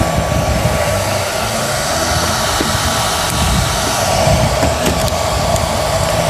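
Cooling fan of a cheap handheld welder whirring steadily, a constant close airy drone with a faint tonal hum and no voices.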